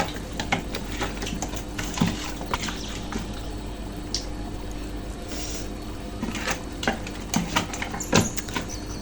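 Hands knead raw mrigal fish pieces with turmeric and salt, producing soft, wet squelching and slapping sounds in an uneven rhythm, close and moderately quiet, with occasional sharper squishes.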